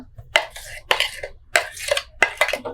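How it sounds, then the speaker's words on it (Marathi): Spinach chutney scraped out of a mixer jar with a spoon, a series of close metallic scrapes and clinks in four rhythmic bursts with short pauses between. "तिला आता काढून घेऊया।"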